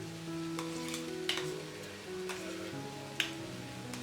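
Banana flower with crushed coconut for a thoran fries softly in a pan, giving a faint, steady sizzle under background music, with a couple of sharp spoon taps against the pan.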